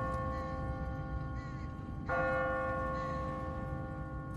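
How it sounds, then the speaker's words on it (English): A church bell in a video game strikes once with a clear, sustained ringing tone that hangs and slowly fades, over a steady low rumble. "What kind of church bell goes off at 20 past the hour?"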